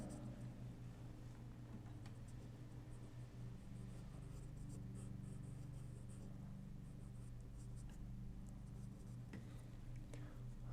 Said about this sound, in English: And now I'm going to draw the eyeballs.